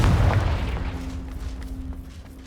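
A Confringo fire spell goes off in Hogwarts Legacy as a heavy, booming blast at the very start that rumbles and fades over a couple of seconds, loud and close, with no voice over it.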